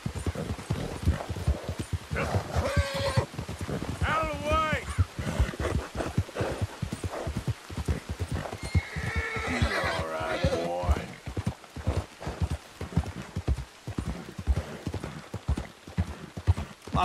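Horse in Red Dead Redemption 2 galloping with rapid clip-clop hoofbeats throughout, broken by loud whinnies and neighs midway, with someone talking over parts of it.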